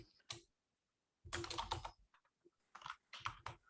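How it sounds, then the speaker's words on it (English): Fast typing on a computer keyboard during live web application coding, with dense bursts of close key clacks separated by short silent gaps. "It's just me typing here."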